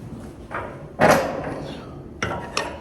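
Farm gate banging on a dry day, with several hollow metallic knocks and thuds at irregular intervals, the loudest near the middle, against outdoor background noise.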